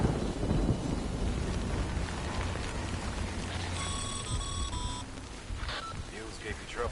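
Rain and thunder in the video game Death Stranding, a steady broadband downpour with low rumbling throughout, joined midway by a few electronic beeps and some faint game voices.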